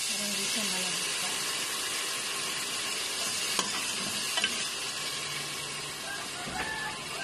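Continuous sizzling and frying hiss of bagoong (shrimp paste) sautéing in a hot pan, with occasional scrapes and taps of stirring, steady and close.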